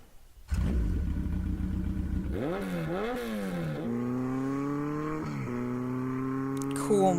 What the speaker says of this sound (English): Cool motorcycle sequence.